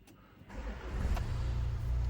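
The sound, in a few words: 2019 Land Rover Discovery Sport engine starting with start button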